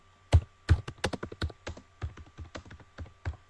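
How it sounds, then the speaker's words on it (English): Someone types on a computer keyboard, a quick, uneven run of sharp close clicks and taps with brief pauses between bursts. "I'm just typing anything now."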